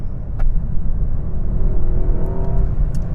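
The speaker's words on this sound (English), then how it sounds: "So I'm going to floor it now. So I'm in 7th gear." A Mercedes-AMG S63 E Performance at full throttle in 7th gear gives a steady, building engine rumble and whir from inside the cabin, loud and continuous with a rising tone toward the end and no talking.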